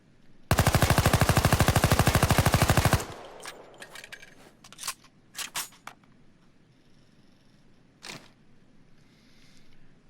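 Skorpion (Cobra) submachine gun in Payday 2 firing one sustained rapid full-auto burst of about two and a half seconds, loud and close, followed by scattered mechanical clicks and handling sounds.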